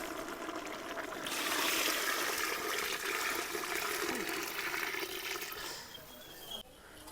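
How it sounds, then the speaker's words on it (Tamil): Water pours steadily into a cooking pot of mutton biryani for several seconds in a broad rushing splash, then tapers off and stops near the end. "இப்போ வந்து மட்டன் வேகிறதுக்காக தண்ணி ஊற்றிடலாம்."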